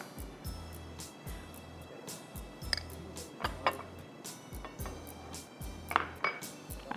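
Marinade ingredients for chicken, from ginger-garlic paste to cream, tipped into a bowl, with repeated spoon taps and clinks against the dish in a steady rhythm, close and fairly quiet, with no talking.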